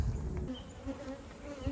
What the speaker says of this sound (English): I like seeing a whole bunch of young bees.